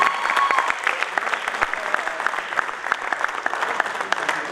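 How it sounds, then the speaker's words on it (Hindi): Theatre audience clapping for an actor during a comedy stage play, a lively, continuous round of many hands with sharp individual claps standing out, moderately loud and unbroken for several seconds. "जोरदार तालियां अनिल के लिए भी"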